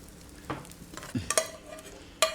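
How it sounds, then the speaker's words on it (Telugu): Vermicelli (semiya) roasts in a pan with a faint low sizzle, broken by a few soft scrapes and clinks of a spatula stirring. "వీటినైతే చాలా రోస్ట్గా వేయించుకున్నాము ఇలా వేయించుకున్న తర్వాత"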